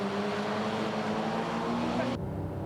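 Race cars lap the Tsukuba circuit just after the start, their engines droning in sustained, slowly rising tones at a moderate distance before the sound cuts off abruptly.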